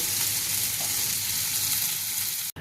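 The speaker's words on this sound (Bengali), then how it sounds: "এবার আমি মাংসগুলোকে ফ্রাই করে নেব" Marinated chicken pieces fry in a kadai for a Bengali chicken butter masala, giving a loud, steady, dense sizzle that runs unbroken, with one brief dropout near the end.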